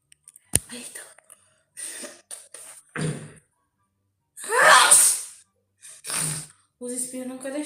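A person with rhinitis sneezes over and over during a livestream, loud close bursts with gasping breaths and coughs between them, and a voice speaks briefly near the end.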